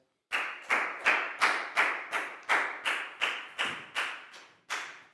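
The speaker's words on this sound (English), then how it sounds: "High five and big round of applause for Pat, please, guys." A Year 4 maths class applauds a student with about a dozen sharp, evenly spaced claps in a steady rhythm, each ringing briefly, with no talking.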